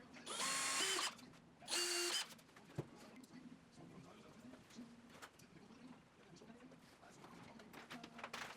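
Two loud bursts of a power drill driving screws into a wooden piece, each about a second long, with a quieter stretch of background noise and faint clatter after.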